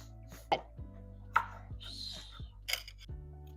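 Onion being chopped with a knife by a child helper in a home kitchen, several sharp separate knife strikes on a board at an unhurried pace, with a child's and adult's voices and faint household noise around them.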